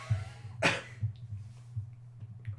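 A single short cough bursts out once, faint and close, against a low steady hum in a quiet podcast recording room.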